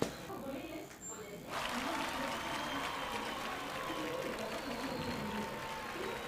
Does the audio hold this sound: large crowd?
yes